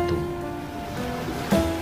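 Ocean waves wash onto a beach, a steady, windy surf roar with a tonal hum running underneath and a slightly louder swell near the end, with no voices.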